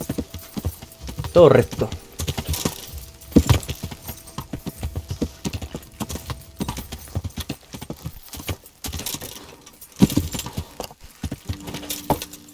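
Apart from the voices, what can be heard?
horse hooves clip-clopping in a video game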